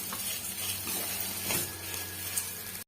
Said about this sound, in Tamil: சேர்த்துட்டு இருந்து ஒரு மூணு நிமிஷம் நம்ம வதக்கி விட்டுக்கலாம்